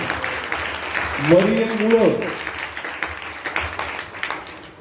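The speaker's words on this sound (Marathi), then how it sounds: "जोरात टाळ्या वाजवा मरियेसाठी" A church congregation at a Christmas service claps loudly, a continuous wash of hands under a raised voice that calls out briefly over the clapping.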